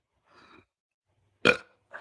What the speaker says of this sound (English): I can burp on command.